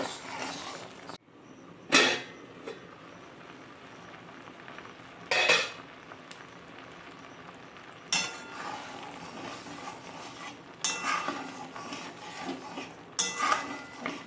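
Boiled mango with a little turmeric is stirred in a pan without water, giving a low background broken by a handful of sharp, spaced spoon scrapes and clinks, with faint sizzling in the later part.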